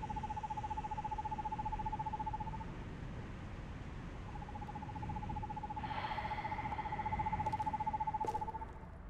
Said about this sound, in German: Ist das ein Vogel?